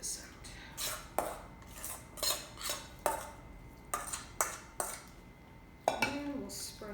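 A metal utensil scrapes and clinks against a dish, removing the leftover filling for Italian stuffed vegetables in a series of sharp, close scraping strokes with short pauses between them.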